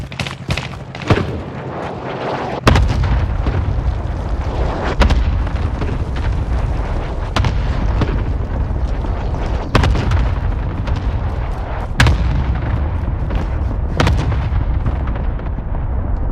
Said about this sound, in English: Designating target for airstrike.